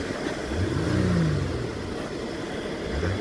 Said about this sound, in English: we'll give it some gas